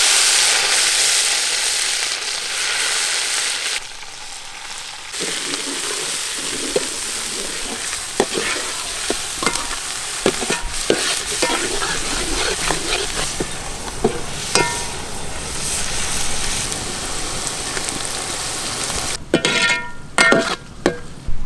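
Crushed onions fry noisily in a pan for a rabbit meatball curry, a strong ongoing sizzle broken by frequent scraping and clinking as they are stirred, with a brief quieter patch partway through; no speech.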